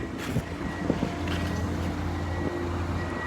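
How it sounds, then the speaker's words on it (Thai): Strong wind buffets an outdoor microphone at a rice harvest. A constant low rumble with faint rustling, no talking. "ลมแรงมากครับ"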